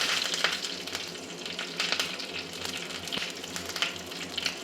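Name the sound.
cumin, mustard seeds, curry leaves sizzling in oil for rasam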